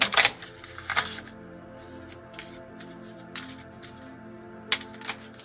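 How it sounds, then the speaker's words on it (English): Tarot cards riffle and slap in a few quick bursts with quiet pauses between them, close up and fairly crisp. "we're actually going to shuffle this deck"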